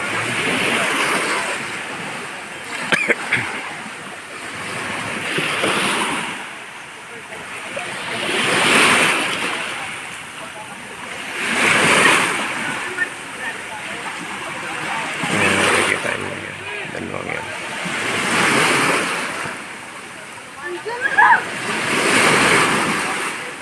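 Big sea waves surge and break in slow, regular swells that rise and fall about every five seconds, loud and rushing, with wind buffeting the microphone.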